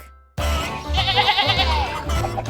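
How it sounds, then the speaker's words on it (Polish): A sheep bleats loudly and close, one sustained wavering cry that fills the whole moment, with no other sounds around it. "Owca!"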